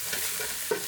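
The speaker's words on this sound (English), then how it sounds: "I decided to mash my meat with this." Ground meat sizzles in a pan while a wooden tool mashes it, a brief steady frying hiss broken by a couple of soft scraping knocks.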